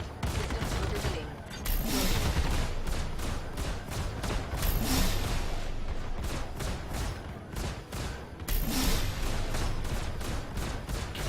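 Ship guns fire in near-continuous bursts during a dogfight in a space flight game with Anvil Hornet fighters, loud and sustained, with brief lulls and the cockpit alert voice mixed in.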